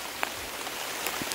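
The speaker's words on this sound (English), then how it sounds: "Beautiful rain. Oh, it's coming down." Heavy rain falling outdoors before chores near Vavau Beach, a steady broadband hiss of drops striking surfaces, with a few sharper close patters standing out above the wash and no voices.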